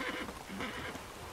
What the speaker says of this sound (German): Ist es dieses eine Pferd, was ich einmal angegriffen habe?